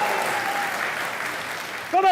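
A studio audience at a Pakistani comedy talk show applauds in a steady, dense wash throughout, before a voice cuts in at the very end.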